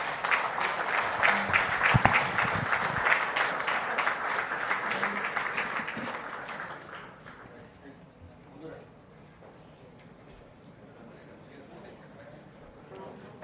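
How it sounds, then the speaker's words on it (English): An indoor audience applauds for the Chief Minister, a dense round of clapping that holds for several seconds and then fades into quieter room murmur. "Can I request you all to welcome him with a round of applause"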